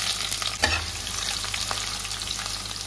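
A large sliced onion fries in melted sugar in a pan, producing a steady crackling sizzle with a utensil clatter early on and a couple of light stirs, and no voices.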